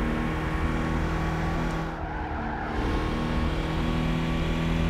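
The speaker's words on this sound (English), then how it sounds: "Oh, I love the look of this car." A classic car engine in Gran Turismo 5 roars at high revs in a steady drone, with a brief dip midway as it shifts or lifts, then climbs again.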